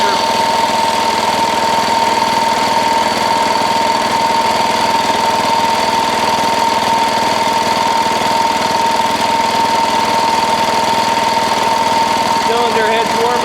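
A diesel Wheel Horse garden tractor engine running steadily after a cold start, a loud, even, knocking idle with a constant rattling hum throughout, close by.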